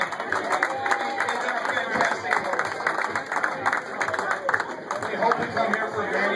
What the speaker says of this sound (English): The man deserves a round of applause.